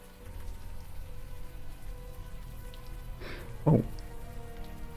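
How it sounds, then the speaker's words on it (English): Warm rain falls steadily in a sewer in the video game Unavowed, a soft continuous patter throughout, with a brief spoken exclamation and a short thump near the end. "Now that it's out of the open air, the warm rain is coming down."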